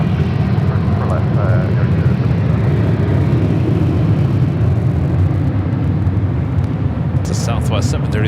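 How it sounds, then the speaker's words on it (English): A Southwest Boeing 737-800 rolls down runway 24 Left at LAX, a loud broad jet roar that holds steady throughout, with some faint higher whine at the close. "Southwest 737-800 rolling down to 24 left on the north side. That's what you're hearing."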